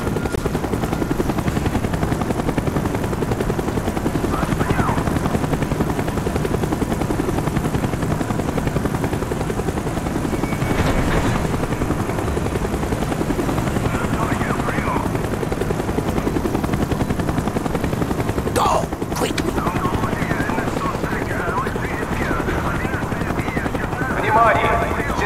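Helicopter in the war shooter game Call of Duty: Black Ops, a steady rotor drone running throughout with brief sharp bursts like gunfire near the end, talk occasionally over it.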